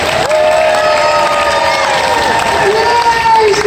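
A theme-park bird show audience at Animal Kingdom cheers and claps for Keto the bird, a loud close wash of crowd noise with shouting voices and tonal calls over the clapping.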